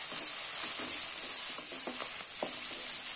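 Long, thinly sliced onions and curry leaves sauté in oil for Chettinad sambar, giving a steady hissing sizzle with soft, occasional stirring knocks, close and continuous, and no voices.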